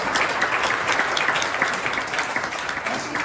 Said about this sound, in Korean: 잠깐 일어나시면 우리 박수로 환영할까요?